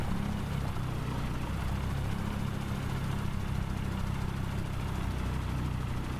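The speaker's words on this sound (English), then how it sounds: "the engine sounds so good right here" An airplane engine in Microsoft Flight Simulator during a short-takeoff-and-landing competition, a steady, dense propeller drone and rumble that stays loud and unchanging, with no talk over it.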